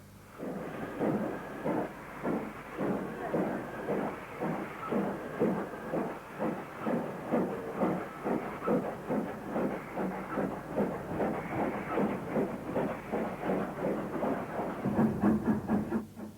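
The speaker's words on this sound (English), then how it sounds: "Although a larger locomotive, this Britannia number 70031 had a smaller tender than the Class 5" Britannia steam locomotive No. 70031 at Birmingham New Street chuffs in a steady, regular rhythm of exhaust beats with a constant hiss underneath, moderately distant and continuous.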